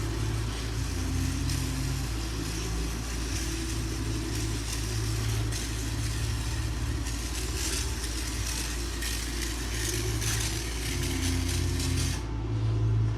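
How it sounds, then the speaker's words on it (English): Machine polisher buffing freshly wet-sanded paint on a MK4 Volkswagen R32, a steady continuous whir with slight pitch wobble as pressure shifts, close and constant throughout. "now I'm gonna polish it."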